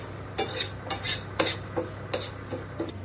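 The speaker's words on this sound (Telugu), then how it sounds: "రైస్ వేస్తున్నాను. ఇలాగా బ్రౌన్ కలర్ వచ్చేంత వరకు వేసుకోవాలి." Rice roasts dry in a pan for kiri payasam while a metal spoon scrapes and stirs it in short, regular strokes, close and fairly quiet with no talking.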